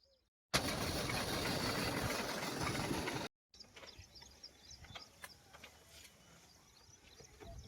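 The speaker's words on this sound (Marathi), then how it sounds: "आपला फवारा चालू आहे सोयाबीन पिकामध्ये." A tractor-mounted sprayer runs in a soybean field, giving a loud steady mechanical drone that cuts off, followed by a quieter outdoor hum with scattered faint knocks.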